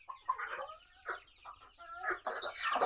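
A native hen and an Aseel chicken clucking up close, a run of short throaty clucks and a few drawn-out calls, rising louder toward the end with no talk.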